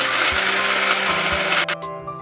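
A mixer grinder whirs loudly as it grinds peanut chutney with Malvani chili powder, a steady close motor drone with rhythmic thumps from the jar that cuts off abruptly near the end.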